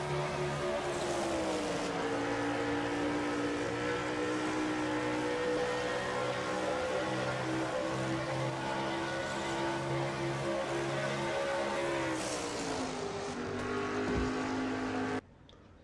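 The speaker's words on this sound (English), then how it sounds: "Just listen to the sound of that Ford engine." A Ford race car engine in a stock car racing game roars continuously at high revs with a steady buzzing tone, briefly dipping and rising in pitch before cutting off abruptly at the end.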